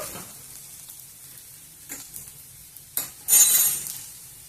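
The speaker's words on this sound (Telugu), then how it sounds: "కాకరకాయలు ఉల్లిగడ్డలు అన్నీ బాగా వేగినాయి." Bitter gourd slices and onions fry in a pan with a quiet, steady sizzle, broken by a few scraping stirs and a louder clink and hiss near the end.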